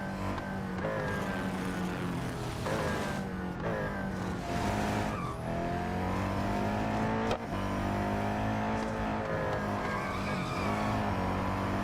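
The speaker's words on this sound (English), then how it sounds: "So it's quite easy to skid around the corners." Race cars in the mobile racing game Real Racing 3 roar with a continuous engine drone, tires squealing and skidding through corners as revs rise and fall throughout.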